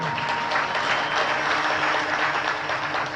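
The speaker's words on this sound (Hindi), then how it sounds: "अरे ताली बजाना है तो ठीक से बजाइए ना" Applause from a Ram Katha religious discourse audience in Ujjain, a dense steady wash of many hands clapping throughout, fairly loud and continuous without talk.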